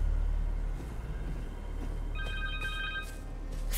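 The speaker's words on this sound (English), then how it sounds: "Connors' cell phone." A cell phone rings inside the Spider-Man 2 video game, a faint repeated electronic trill over steady low rumbling ambience.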